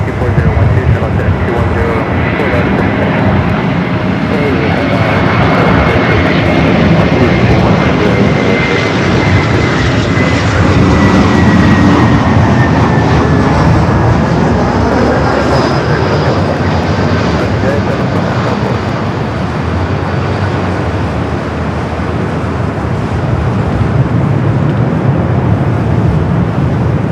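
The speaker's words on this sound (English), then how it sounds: "It's the A321 flight coming up from Atlanta." An Airbus A321 jet arriving from Atlanta passes at an airport, its engines roaring loud and steady for the whole stretch with a slowly shifting whine.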